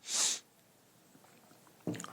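A person with a cold gives a sharp, loud sniffle up close, followed by a quiet pause before talking begins.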